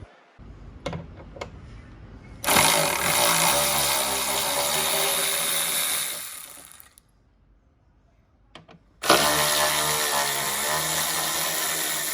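A power driver fitted with T45 and T40 Torx bits whirs loudly for a few seconds while removing bolts, pauses after a few clicks, then starts up again at full speed, with no voices.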